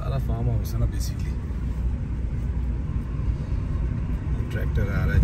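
A tractor approaches along a countryside farm road, its low engine rumble running steadily beneath someone talking close by.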